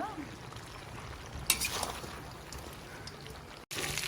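Chicken sizzling in a pan with salt and turmeric, a soft steady crackle of frying under quiet background, with a brief clink of utensil partway through and a short dropout near the end.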